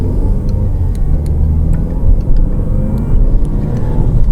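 A 2023 Mazda CX-5 engine runs with a steady low rumble, close by, with faint ticking on top; no voices.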